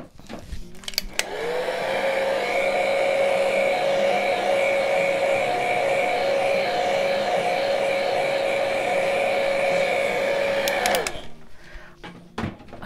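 A hair dryer switches on and runs loud and close with a steady whining hum while drying paint, then cuts off, with faint clicks and handling sounds before and after.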